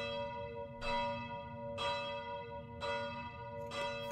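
A church bell in the horror video game More Work Horror tolls four times at an even, slow pace, each strike ringing with a long metallic hum that lingers between hits, heard alone and fairly faint.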